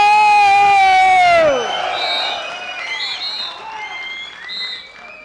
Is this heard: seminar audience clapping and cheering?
yes